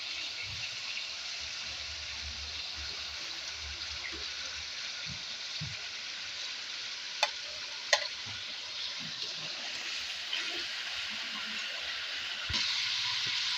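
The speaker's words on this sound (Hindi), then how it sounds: "गोश्त जो हमारा है वो हल्का सा हमने फ्राई करना है, ज़्यादा फ्राई नहीं करना" Chicken pieces frying lightly in hot ghee for a deghi-style qorma, a steady broadband sizzle holding throughout with a couple of sharp spatter pops and faint stirring clinks, no talking.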